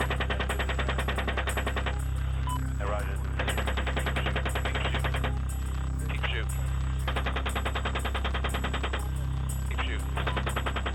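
Helicopter machine gun firing in combat, bursts of rapid automatic fire separated by short gaps over a steady rotor and engine drone, with radio voices talking in between.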